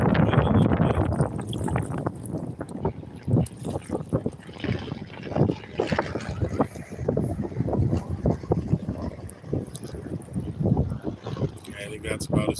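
Wind buffets the microphone in low rumbling gusts while kayaking on Frenchtown Pond, continuous and loud throughout, with someone talking over it.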